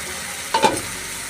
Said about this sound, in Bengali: ঝিঙ্গেটাও ভালোভাবে সিদ্ধ হয়ে ভাজা হয়ে গেছে